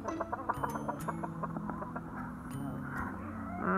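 Chickens cluck close by in short repeated bursts, several birds overlapping, with some brief sharper calls mixed in.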